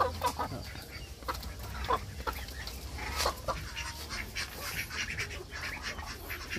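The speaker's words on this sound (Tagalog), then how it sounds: "Yan, manok ilahas yan, manok bundok." A wild mountain chicken with feathered feet clucks and calls among other fowl including ducks, a busy run of short bird calls at moderate distance with no talk.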